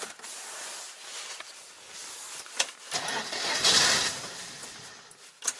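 An old Jaguar car engine is cranked and catches: a whirring starter, then the engine rumbles up to a louder burst before settling, all close by.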